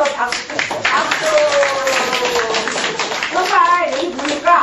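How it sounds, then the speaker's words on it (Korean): Hand clapping from a senior laughter and brain-health class at a community center, mixed with voices and lively chatter that run through the whole stretch at a steady, close level. "다시 한번 박수. 박수."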